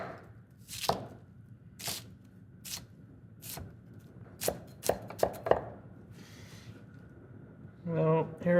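A knife chops through an onion on a cutting board in sharp, separate strokes, spaced at first and then quicker in a short burst, close and fairly crisp, before a person starts to talk.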